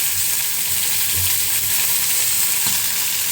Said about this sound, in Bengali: দিয়ে এর মধ্যে মশলা দিয়ে আর রসুন কুচি দিয়ে ভালো করে নাড়াচাড়া করতে থাকবো।